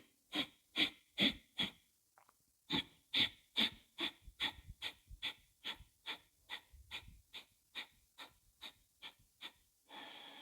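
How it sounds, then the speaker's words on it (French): Short, sharp exhalations puff through the nose with the mouth closed, about twenty in a steady rhythm. They are close and clear, with a brief pause after the first few. "on va expirer par petits soufflets, bouche fermée"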